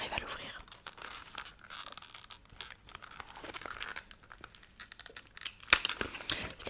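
Crinkly plastic and cardboard packaging of a beauty box being torn open up close, soft rustling and crunching with a quiet whispering voice over it.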